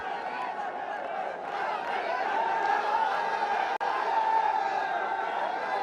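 A near jam-packed crowd at Shere Bangla National Stadium during a Bangladesh vs Pakistan T20 cricket match, a steady dense murmur of chatter and cheering filling the air continuously.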